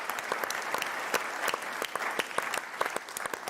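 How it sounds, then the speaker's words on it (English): Conference attendees at the Mackinac Policy Conference give steady, dense applause, close and loud throughout with individual sharp claps standing out. "please let's give a big round of applause to all of the great staff at the Chamber"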